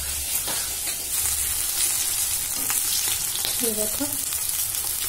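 Rohu fish frying in oil, a steady close sizzle and crackle filling the whole stretch, with a brief spoken phrase partway through.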